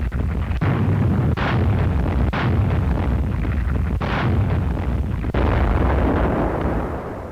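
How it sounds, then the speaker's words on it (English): A naval artillery barrage fired from warships covering an amphibious landing in the Aleutians during the Pacific war: repeated heavy booms roll into one another as a continuous loud rumble, with distinct blasts at roughly one-second intervals. "the warships laid down a barrage as cover for the main landing forces"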